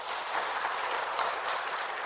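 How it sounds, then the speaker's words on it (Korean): A church congregation applauds in a sustained, even burst of clapping that fills a large worship hall, steady and moderately loud throughout. "우리 영상 예배실에 있는 분들을 우리 박수로 한번 축복합시다"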